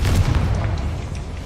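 A Confringo explosion spell going off in the Hogwarts Legacy video game, a loud deep booming blast with a rumbling low tail that fades slowly, no voices over it.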